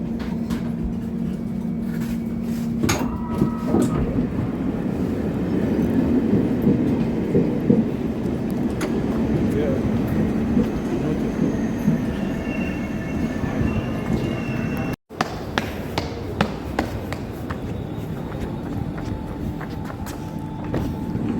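Riding a train in Germany: a continuous low rolling rumble with occasional clicks and knocks from the carriage runs for about twenty seconds, broken by one short dropout, with no talking.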